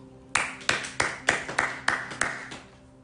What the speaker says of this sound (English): this is a good time to clap